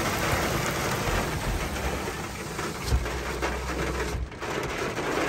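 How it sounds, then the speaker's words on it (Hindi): Heavy rain pouring steadily in Sahiwal, a dense continuous wash of noise with a low rumble underneath and a brief dip near the end. "बारिश हो गई है तेज़ ज़रा"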